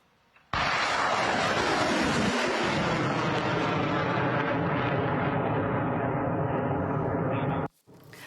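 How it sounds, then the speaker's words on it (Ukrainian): A Buk M1 surface-to-air missile streaks in toward a Russian Ka-52 attack helicopter, a sudden loud roaring rush that holds for about seven seconds, falling in pitch as it passes, then cuts off abruptly. "Це влітає ракета зенітного ракетного підрозділу Бук М1."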